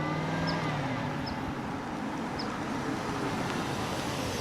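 An Aston Martin Vantage driving, heard as a low, steady engine and road drone with faint tonal hum, moderately distant and without voices.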